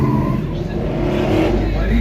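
A 427 Cobra's engine rumbles and revs during a show run at the Memel Motor Fest Red Bull Showrun, a loud deep roar heard close with a voice speaking over it.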